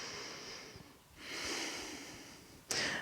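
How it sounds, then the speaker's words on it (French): Slow, deep breathing during a standing morning yoga pose, arms raised overhead: a long airy exhale, a pause, another long breath, then a sharp nasal intake at the end, close and alone. "On respire ici."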